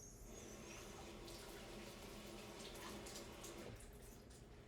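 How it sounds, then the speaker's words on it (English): Water runs steadily from a kitchen tap while hands are washed, a soft continuous splashing rush that is faint and close, with no speech. "Let me wash my hands."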